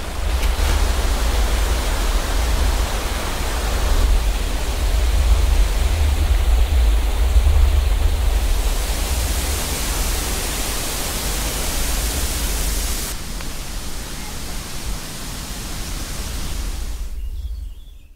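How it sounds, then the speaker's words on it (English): A raging waterfall in a canyon pours in a steady, dense roar that fills the scene from start to finish, loud and unbroken, with a brief shift in texture partway through. "Listen to the raging waterfalls."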